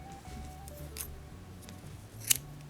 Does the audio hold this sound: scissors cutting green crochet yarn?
yes